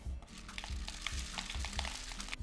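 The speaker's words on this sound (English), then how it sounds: "I'm gonna take my rice and pour it in." Dry rice grains pour into a paper-tube rain stick sealed at one end with tape, giving a continuous close crackling patter with scattered sharper ticks and no talking.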